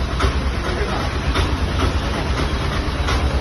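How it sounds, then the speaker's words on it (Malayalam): A train rumbles past close by with steady low engine roar and faint rhythmic clatter, loud and continuous throughout. "ട്രെയിൻ വരുന്നുണ്ട് ചേട്ടാ"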